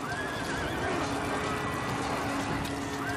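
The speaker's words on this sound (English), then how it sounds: "Then he turns into a rearing horse that nearly knocks him over." A horse rears and whinnies loudly in a battle scene from a video game, with hoof clatter and the din of fighting beneath the cry.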